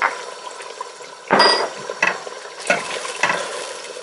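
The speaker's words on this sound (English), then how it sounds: "Fry that up for a bit" Stock cubes, black pepper and mustard seeds fry in a pot for Ghana beef stew, giving a steady close sizzle with a few louder bursts of stirring and scraping spaced through it.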